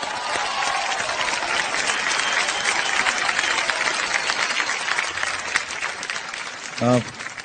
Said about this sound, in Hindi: जावेद साहब के लिए एक बार जोरदार तालियां हो जाएं।